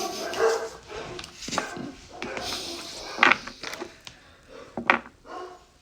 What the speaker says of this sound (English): Bark, bark, bark, bark, bark.